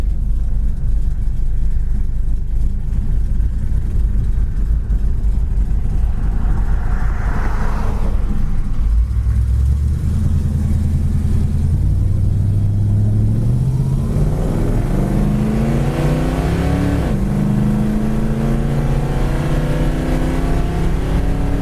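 A 1969 Plymouth Road Runner cruises down the road, its engine droning steadily and then pulling up through rising revs with a clear shift, loud and close throughout.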